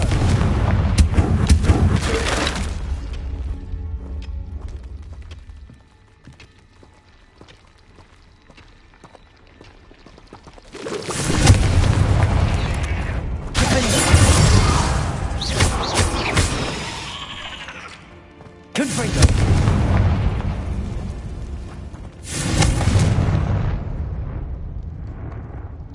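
Confringo blasting spell going off in a Harry Potter video game: loud explosive booms, a first burst, a quieter lull, then two more heavy blasts with crackling debris and rumbling tails.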